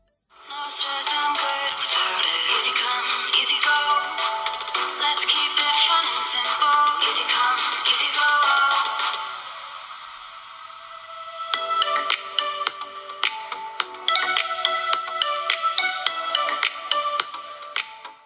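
Music plays through the small built-in speaker of an Elephone A5 smartphone, bright and thin with sharp plucked or percussive notes, pausing briefly midway before resuming at steady moderate loudness.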